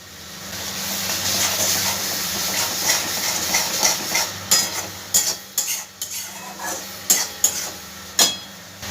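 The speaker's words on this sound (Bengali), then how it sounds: "ভালো করে মশলাগুলো ভেজে নেব।" Spices for an egg pepper fry, including cumin powder, fry in a pan with a soft steady sizzle. A spoon scrapes and clinks against the metal in a run of sharp, uneven strokes.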